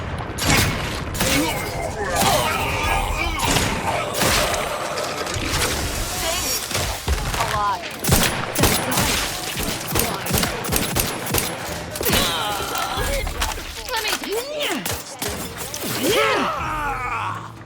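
Gunfire in The Outer Worlds 2 video game, loud repeated shots and bursts with mechanical clatter and combat grunts, while voices talk in between.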